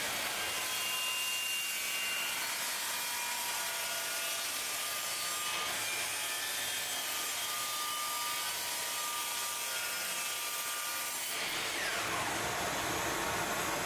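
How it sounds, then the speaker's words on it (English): A miter saw cuts through a resin and olive wood piece with a continuous loud, broadband whine and grinding rasp that holds steady throughout and shifts near the end as the cut finishes. "First up, I'm using my miter saw for the short side."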